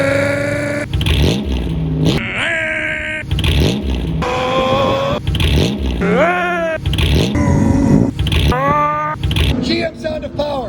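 A Pontiac Sunfire Lemons race car with a swapped GM 3.4-liter V6 from an Alero revs loudly and repeatedly, engine pitch climbing and dropping in quick sharp bursts.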